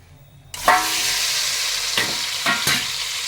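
Eggs dropped into a hot pan burst into a loud, steady sizzle that holds throughout, with a few scraping stirs of a utensil partway through, close up and without talking.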